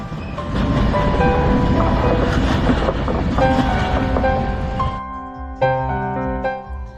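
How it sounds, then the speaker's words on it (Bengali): A passenger train running at speed through the Dooars countryside, with a loud, close, rhythmic rumble and clatter for about five seconds before it gives way to quieter tonal sounds. "দুরন্ত গতিতে ট্রেন ছুটে চলল তার গন্তব্যের দিকে।"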